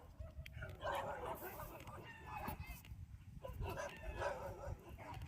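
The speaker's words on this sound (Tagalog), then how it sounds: "Sinusugod na agad kami ng aso." A dog barks and yips repeatedly, somewhat distant, mixed with people talking and calling out nearby.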